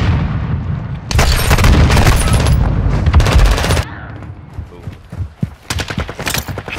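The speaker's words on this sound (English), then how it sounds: "Throwing flash grenade!" A flash grenade tossed in a video game detonates with a loud burst and a sustained crackling roar of gunfire and blasts, then scattered sharper pops and shots trail off.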